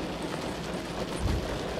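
Rain pours steadily through a freezing night beside a river in Manali, heard from inside a parked car as a dense, even hiss with low rumbling and no pauses.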